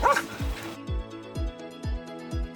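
Border guard dog barking in repeated short yips and bow-wows at a steady rhythm, near and moderately loud, with no talk over it.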